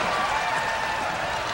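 A wrestling arena crowd at a 2003 WWE Raw event roars in a dense, loud, unbroken wash of cheering and clapping with no pause.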